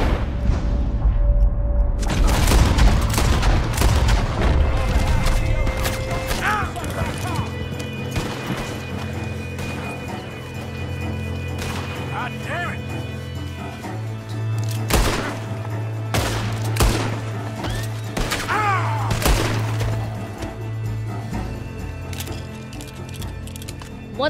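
Gunfire in the video game Red Dead Redemption 2, with repeated loud shots and a fusillade of cracks over hoofbeats and a rumbling background, as voices talk and shout throughout.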